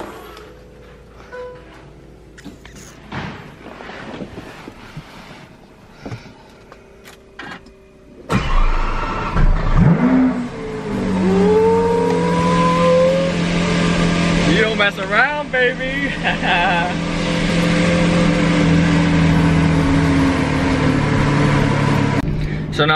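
A Lamborghini Aventador starts and pulls away, its engine rising from near silence into a loud, steady roar with shifting revs that fills the rest of the stretch, preceded by faint background sounds.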